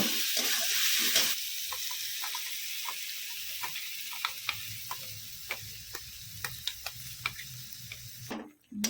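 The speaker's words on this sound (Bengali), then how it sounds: "অল্প একটু কষিয়ে নেব মশলাটার সঙ্গে।" Tomato and cashew paste with spices sizzles gently in a pan, a steady low fry with scattered light ticks and pops of a spoon stirring, close and fairly quiet with no talking.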